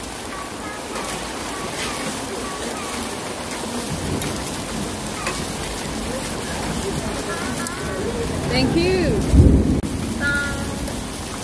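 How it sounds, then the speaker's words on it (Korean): Rain falls steadily on surfaces with thunder rumbling through, swelling into a louder deep crack near the end, while people talk and dishes clink over the downpour. "천둥 번개"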